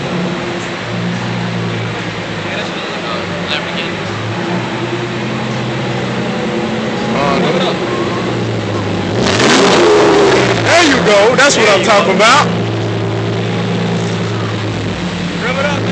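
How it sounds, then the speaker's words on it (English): At an outdoor import car show, a car engine idles then revs up loudly in a short burst of sharp throttle blips, with people talking and cheering over it. "Rev it up, man."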